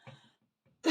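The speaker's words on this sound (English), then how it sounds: "All of a sudden, I'll keep coughing." A woman coughs, one soft throaty cough at the start and a sharper, louder cough at the end, with a quiet gap between them.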